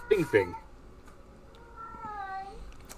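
A cat meows for attention, first two quick close meows, then a longer drawn-out plaintive cry over low room noise.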